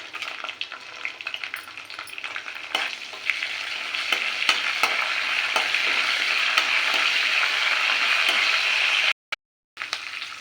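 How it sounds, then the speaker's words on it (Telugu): Curry leaves and dried red chillies crackle and sizzle steadily in hot oil for a capsicum fry, a close, continuous frying hiss that is briefly interrupted near the end. "ఇలా ఈ ఫ్రై అయ్యాక ఫ్రెండ్స్ కరివేపాకు అలాగే ఎండుమిర్చి కూడా వేసేసుకోవాలి"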